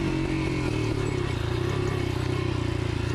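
A Yamaha XT 500 motorcycle rides laps on a farm track, its single-cylinder engine droning loud and close with a steady throbbing pulse throughout, wind and rattle mixed in.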